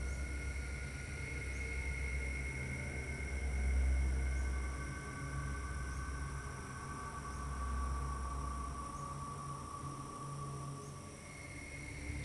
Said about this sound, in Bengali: আজও সেই ট্রেন লাউয়াছড়ার বুক চিরে চলে যায়